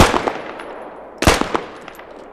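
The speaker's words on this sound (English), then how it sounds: "Even the SKS is exponentially rising in recoil, if I spam fire it." SKS rifle spam-fired in the video game Squad: a burst of rapid sharp shots, then a second loud cluster of cracks about a second later, close and dry with short decaying tails, no talking.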